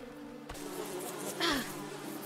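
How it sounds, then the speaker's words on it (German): Bees buzzing in the video game Above Snakes, a soft insect drone over a steady game soundscape that swells briefly near the end. "Wo sind die Bienen? Da sind die Bienen."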